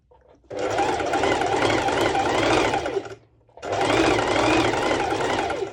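A sewing machine stitches two layers of lycra fabric in two close, loud bursts of rapid needle chatter, separated by a short pause.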